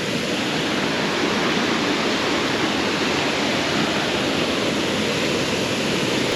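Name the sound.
loud waterfall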